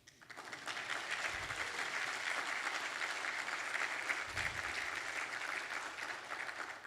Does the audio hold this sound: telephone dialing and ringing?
no